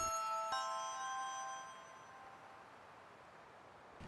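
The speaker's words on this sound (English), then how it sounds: "So the afternoon bell has rang" The afternoon bell in the video game Innocent Life, set in Volcano Town, strikes twice in quick succession, a bright ringing chime whose tone fades slowly into quiet.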